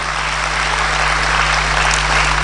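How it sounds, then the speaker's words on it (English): Steady, dense applause from a crowd at a political party address, continuous and even throughout with no talking over it. "A round of applause for him."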